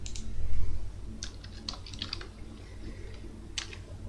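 Clusters of light keyboard clicks tapping out code on a computer keyboard, in short bursts with pauses between, moderately quiet over a low hum.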